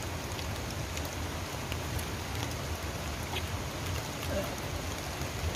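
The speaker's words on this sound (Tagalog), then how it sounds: "Mukbang at tapark gone wrong dahil umuulan ng malakas." Heavy rain falls steadily in Fort Canning Park, Singapore, a dense, even hiss of drops on surfaces that stays fairly soft and unbroken throughout.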